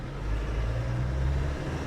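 A 1995 Land Rover Defender Camel Trophy 300tdi pulls away in first gear, its diesel engine giving a steady, close, low rumble with a constant drone throughout.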